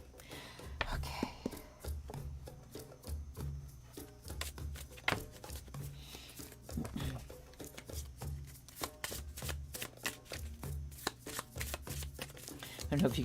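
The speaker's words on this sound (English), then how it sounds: "I'm going to shuffle them this way" A deck of reading cards being shuffled by hand, with repeated soft riffles and slaps in an uneven rhythm, close and fairly quiet.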